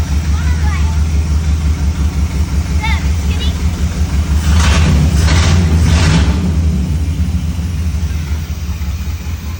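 A tribute Camaro's engine runs with a steady low rumble close by, then revs up in a few quick surges before settling back to idle, with voices talking over it.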